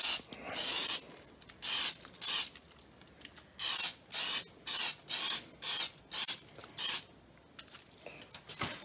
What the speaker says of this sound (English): I'm just going to give it a light tack coat.